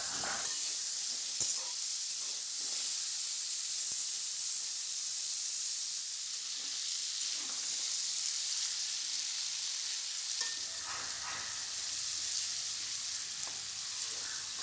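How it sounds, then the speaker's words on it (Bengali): Cauliflower florets with a little turmeric sizzle steadily in hot oil, a continuous close frying hiss with faint occasional clinks, no talking. "কপিটাকে ভালো করে ভেজে নিতে হবে।"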